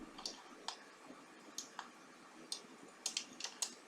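Quick, light clicks from a mouse or keyboard at a computer running Siemens NX, tapping in an uneven rhythm that speeds into a small cluster at the end, close but soft in a quiet room.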